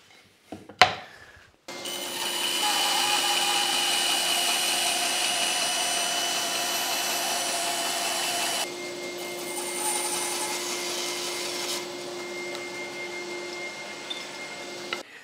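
A bandsaw cuts tenon cheeks on a wooden workpiece for a book rack. A near, loud, steady whining roar sets in after a brief knock and runs continuously, shifting slightly in tone partway as the cut changes.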